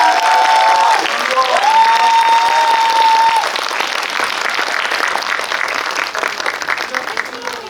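A cinema audience at a Korean film Q&A for the horror film Exhuma applauds the director and actors, a dense, sustained wash of clapping that fills the room, with a brief tonal whine over the first seconds.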